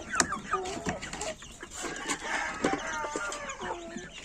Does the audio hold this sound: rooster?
yes